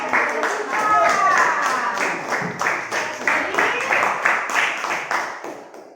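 A classroom of students claps together in a short burst, with loud, fairly rhythmic overlapping claps and some voices mixed in, tapering off toward the end.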